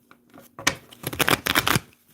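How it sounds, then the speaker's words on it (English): A close, crisp riffle shuffle of cards: a brief flick, then a rapid fluttering cascade lasting about a second. "Concentrating and shuffling."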